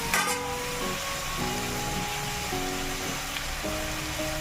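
Tomatoes cook in a pan with a steady, close sizzle and soft bubbling that holds evenly throughout, without any talk.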